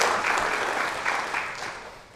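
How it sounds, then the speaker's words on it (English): Audience at a spring studio benefit recital claps for the musicians, a short burst of dense applause that fades slightly toward the end. "can we give a round of applause to all the wonderful players who've been here today"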